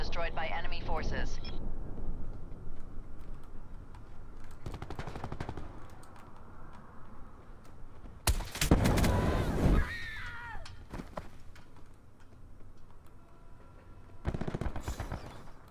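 Gunfire from a Call of Duty Black Ops 4 match, with bursts of automatic machine gun fire and loud explosive blasts rising over a background of game sounds and voices.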